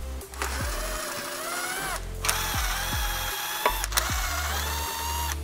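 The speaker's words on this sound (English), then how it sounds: "You have 3 7-millimeter screws here for the mud flap and the fender liner that we need to remove." A ratchet backs out 7 mm screws holding the mud flap and fender liner on a Motorsport Yellow C8 Corvette, with several bursts of rapid clicking separated by short pauses and punctuated by a few sharp knocks, close and clear.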